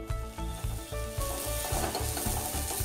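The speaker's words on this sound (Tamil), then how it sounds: "கூடவே ஒரு பச்சை மிளகாய், கொஞ்சமாக கருவேப்பிலை. இதை நல்லா வதக்கிக்கலாம்." Chopped onion, green chili and curry leaves frying with fennel seeds in a pan, a close steady sizzle broken by rhythmic stirring strokes, with a faint musical backing and no talk.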